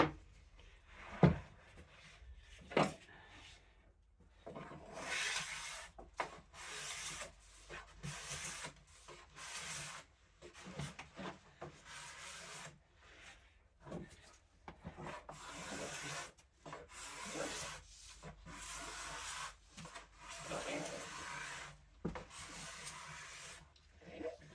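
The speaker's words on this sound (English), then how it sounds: "So I'm just going to scrape this, the bottom," Card scraper rasps across the wooden underside of a workbench shelf in repeated short strokes, close and dry, with brief pauses between passes.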